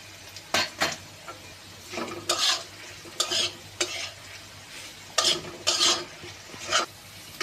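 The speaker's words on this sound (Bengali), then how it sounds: "এবার আমি এলাচ এবং দারচিনি অ্যাড করব।" Cardamom and cinnamon crackle in a hot pan while a spoon scrapes and clinks against the metal in repeated bursts of stirring, close and clear with no talking.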